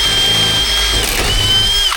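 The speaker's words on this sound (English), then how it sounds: "So I think she's gonna get the old drill" A power drill bores out the ignition lock of an old 1980 Caterpillar-powered Kenworth K-Whopper truck, giving a steady high-pitched whine with grinding, close and loud for two seconds.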